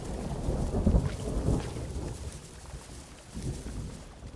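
Heavy rain pours down in the DayZ video game, a dense steady hiss with low rumbling swells that rise and fall throughout.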